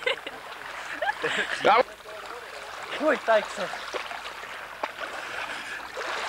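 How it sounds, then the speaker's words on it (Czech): Waves splash and slosh around a small boat on open water, a steady wash of noise beneath people talking nearby. "Začínají vlny."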